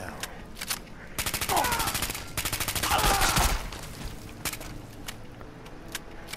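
A Skorpion VSC submachine gun with a rapid-fire mod in the video game Fallout 4 fires a long, fast burst lasting a couple of seconds, loud and close, with a few scattered shots before and after.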